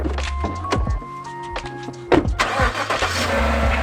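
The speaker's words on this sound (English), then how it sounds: "We're going to go get in a car and we're going to see what it looks like inside of a vehicle." Car door thunks and rustling movement as someone climbs into a parked car, with a couple of sharp door slams and clicks over a low rumble, close and fairly loud, no talking.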